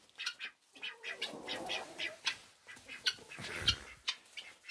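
Ducks quacking and clucking at a farm where eggs are collected, several short calls near and moderately loud, scattered irregularly over soft background noise.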